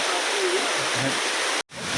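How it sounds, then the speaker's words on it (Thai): Heavy mountain rain pours onto rocks like a waterfall on the way up Phu Tabaeng; a dense, steady roar of downpour, close and loud, briefly cuts out near the end before returning. "ตอนนี้ตกหนักมากเลยฮะ ฝนตกหนักกว่าทุกทุกครั้งที่นั่นน่ะ"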